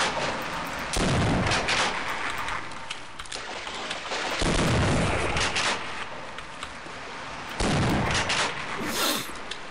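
Booming shotgun blasts from the video game Half-Life: Blue Shift, three heavy shots spaced a few seconds apart, each with a long rumbling tail over steady background noise.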